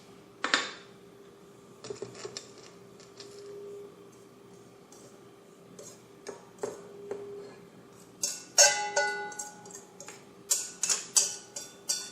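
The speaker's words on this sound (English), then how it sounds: "I also like to go ahead and whisk one more time just in case." Whisking a flour mixture in a bowl for chocolate chip cookie dough, scattered light metallic ticks and taps, then brisker bursts of clinking strokes toward the end, close with no talk.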